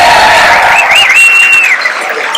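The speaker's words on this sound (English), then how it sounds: "So please give him a big round of applause." Crowd applauding Chris Judge at a memorial show, a loud sustained wash of clapping with a single high whistle or cheer rising over it.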